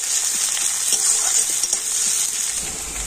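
Onion and green chillies frying in hot oil, a loud, dense, continuous hiss of sizzling close up with a few faint utensil taps underneath.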